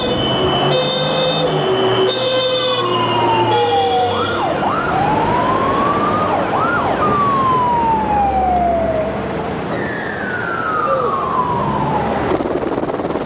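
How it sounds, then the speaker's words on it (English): Emergency vehicle sirens wail through city streets after the 1989 Newcastle earthquake, several overlapping rising and falling tones with a high steady tone at the start, heard loud over a constant rumbling background with no talking. "the hushed silence was broken by the wail of sirens"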